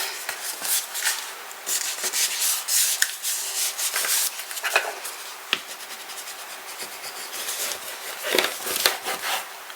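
Paper burnished down by hand for a small Halloween album, making close, soft rubbing and scratchy swipes in irregular bursts, with occasional light taps and handling noises.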